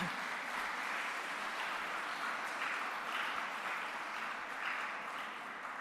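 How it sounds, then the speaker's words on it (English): An audience at a college Founders Day event at MCC gives a sustained round of applause for student presentations, heard as a steady, fairly faint wash of clapping without talk. "They deserve a bigger round of applause."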